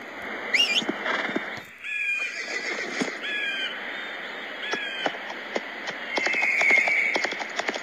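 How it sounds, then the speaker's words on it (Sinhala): A horse in the West Gunfighter mobile game whinnies in several sharp, high neighs, with hoofbeats from galloping clopping beneath. Other game sounds run alongside, and no one speaks. "අපිට ගොඩක් දුර යද්දි අශ්වය පාවිච්චි කරන්න පුළුවන්."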